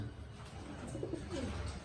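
Faint pigeons coo in low, rolling murmurs against a quiet background in a pigeon breeding room, with no one speaking.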